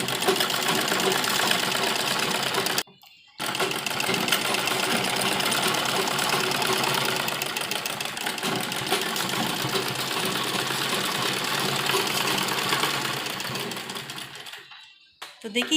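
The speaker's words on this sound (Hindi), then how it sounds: "तो इस तरह पूरा खींचकर बीचों बीच इस तरह से हम सिलाई लगाएंगे।" A sewing machine stitches palazzo fabric in a fast, continuous mechanical rattle, close and steady, pausing briefly once and winding down near the end.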